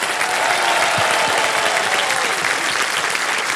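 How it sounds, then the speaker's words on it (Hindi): Studio audience applause on the KBC Season 16 game show set, a dense, steady and loud clapping that holds evenly through the whole stretch without pauses. "इनकी तालियों के प्रोत्साहन के बीच हम आज का खेल जो है वो शुरू करने जा रहे हैं"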